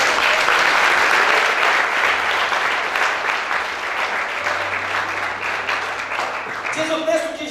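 A church congregation applauds steadily for several seconds during a service, dense clapping that fills the space, with a voice speaking near the end.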